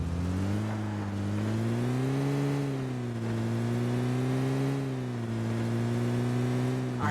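A car in PUBG drives with a steady, loud engine drone whose pitch rises and falls gently as it revs, heard up close and alone throughout.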